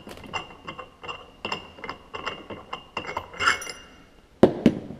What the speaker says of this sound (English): So then just unthread the clutch puller.